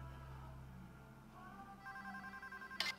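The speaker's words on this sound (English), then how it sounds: "Telephone. I'm taking it." A telephone rings in the video game PayDay 2, a faint electronic ring pulsing in short repeated bursts near the end of a quiet stretch.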